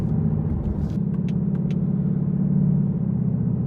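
A tuned 2018-2019 Ford Mustang GT engine idles with a loud, steady low rumble and throb, a few faint clicks sounding above it.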